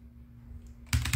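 Keys clattering on a Royal Kludge RK84 V2 wireless keyboard with Gateron switches, a quiet pause followed by two close, loud bursts of typing.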